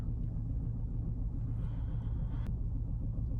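A Volkswagen Golf Mk5 engine idles rough with a misfire, giving a steady low uneven rumble that carries through the whole stretch with a faint high whine briefly on top.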